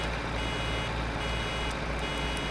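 Reversing beeps from a farm vehicle in Farming Simulator 2013, a steady rapid beeping faint over a dense broadband engine and machinery wash.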